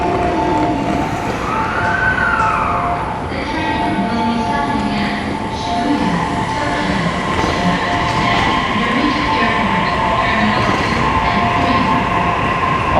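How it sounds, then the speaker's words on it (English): A Narita Express train at a Tokyo station gives a steady loud rumble with tonal hum and a brief rising whine, while a voice speaks nearby. "What a badass looking train."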